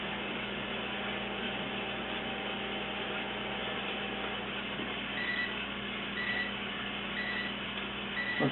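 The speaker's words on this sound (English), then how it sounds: "there's the first warning beep" A Hottop 8828B coffee roaster gives a steady electronic warning beep that repeats a few times over the constant loud mechanical whir of its running fan.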